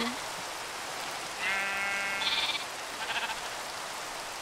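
Sheep in the Minecraft video game bleat twice, a longer wavering call followed by a shorter one, clear and close over a faint hiss.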